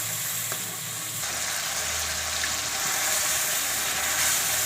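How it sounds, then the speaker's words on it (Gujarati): Tomato gravy fries in a pan with a steady, close sizzle and bubbling hiss that swells slightly as it cooks, with no talking. "ઘડીક આપણે આને ટમેટાને તળવા દઈશું."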